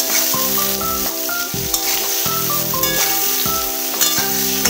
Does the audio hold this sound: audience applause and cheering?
no